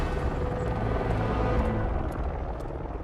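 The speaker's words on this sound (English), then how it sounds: "you're going to be put in control of Commissioner Gordon as he's dropped off at the helipad on the roof of Panessa Studios" A helicopter in the video game Batman: Arkham Knight sets a character down on a rooftop helipad, a steady, heavy rotor rumble that holds throughout without pause.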